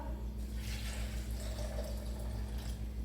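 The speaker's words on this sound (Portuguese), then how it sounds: "Vou entrar aqui com a água." Water pours from a cup into a bowl of gluten-free, egg-free pancake batter, a soft continuous trickle over a steady low hum in a home kitchen.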